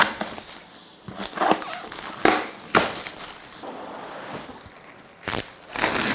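Intermittent crinkling and rustling of a plastic bag wrapped around a 3D printer being unboxed, close by, in short bursts with quieter gaps between handling noises.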